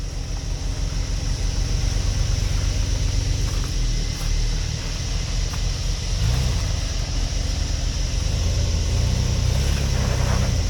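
A Toyota 4WD engine drones and revs while driving into a deep rut at a 4WD park, a dense rumbling roar with surges, heard close and continuous without talk.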